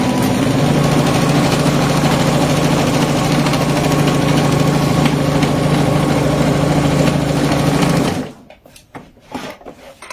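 A sewing machine stitches the sides and bottom of a fabric bag, a loud continuous motorized whirr with a rapid needle chatter that runs steadily for about eight seconds before stopping abruptly, followed by a few faint handling sounds.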